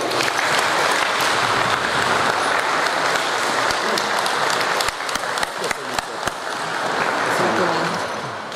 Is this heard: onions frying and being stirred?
no